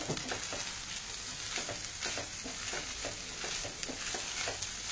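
Cooked rice being stirred into mint masala in a hot pan, a steady close sizzle with regular scraping strokes of the spoon, no voices.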